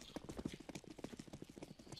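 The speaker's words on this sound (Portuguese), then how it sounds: "Também comprou cavalo, né, fi?" Horse hooves clip-clop in a Counter-Strike ranked match, a quick, even run of hoofbeats near and clear, with faint game sounds beneath.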